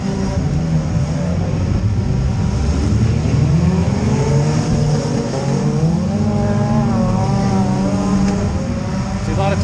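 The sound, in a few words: demolition derby car engine while driving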